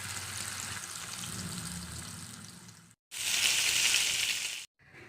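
Fish frying over a medium flame in a pan, a steady close sizzle and crackle that drops out briefly and then returns louder and brighter before a short gap.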